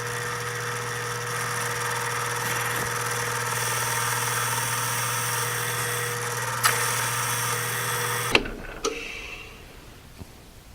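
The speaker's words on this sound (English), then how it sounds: "Now we'll trim this down until I see the brass at the end of the tube getting shiny." A power tool trims the end of a brass tube, running as a steady high-pitched whine with a constant hum for about eight seconds before cutting off, followed by a few faint clicks and handling sounds.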